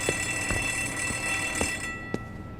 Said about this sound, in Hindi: शायद ये गलत अलार्म है